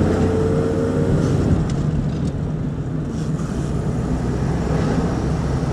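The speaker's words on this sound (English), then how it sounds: "Car gets up to speed and it rides great." A 1937 Pontiac Deluxe 26 Silver Streak business coupe with a three-speed manual transmission drives along a road, its engine and road noise forming a steady, loud, even rumble with no talking.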